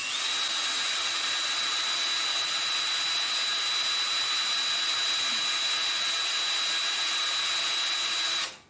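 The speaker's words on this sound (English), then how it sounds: "Got a nice big divot there so that the drill should start easy." A power drill boring a hole during a sawmill modification, a continuous loud high-pitched whine with a steady tone running unbroken for several seconds before cutting off abruptly.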